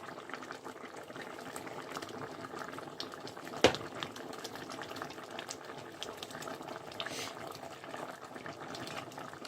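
Potato curry simmering in a pot makes a steady bubbling hiss that holds through the whole stretch, with one brief sharp knock near the middle.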